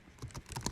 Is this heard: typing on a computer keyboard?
yes